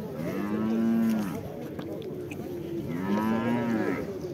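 Calves and cattle moo at a busy livestock market in Karakol, two long, loud lowing calls rising and falling against a murmur of crowd noise in the background.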